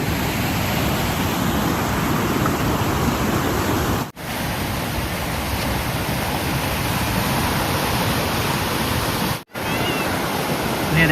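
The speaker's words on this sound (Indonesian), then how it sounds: "Yang airnya deras banget, jadinya kayak gini." Fast-flowing river water at a bathing spot on a Mount Kinabalu hike in Sabah, Malaysia, rushes as a loud, steady, close broadband roar that never lets up.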